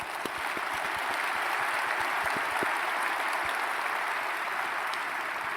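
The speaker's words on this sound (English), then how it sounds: "yes, give them a round of applause." Sustained audience applause at a city State of the City address, honoring local police and fire leadership; steady dense clapping throughout, with a few sharper individual claps standing out.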